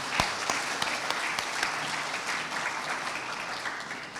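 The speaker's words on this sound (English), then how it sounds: "Let's have big applause to Punovi." A lecture audience at a literature event applauds steadily and alone, a dense wash of claps with a few sharper near hand strikes standing out.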